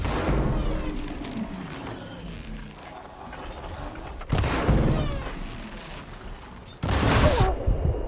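Gunfire in the video game Horizon Forbidden West: dense, loud bursts of shots and impacts crowding the whole stretch, with two sharper blasts standing out near the end.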